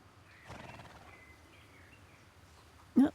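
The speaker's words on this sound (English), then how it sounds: "Oh, another Black Forest horse." A Black Forest horse in the Star Stable Online game gives a short neigh near the end, loud and close, after a quiet stretch of soft background game ambience.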